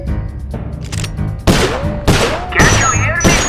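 Gunfire in the video game Sly Cooper: Thieves in Time: four loud, sharp bursts of shots cut through a bed of game music and character voices, spaced roughly half a second to a second apart.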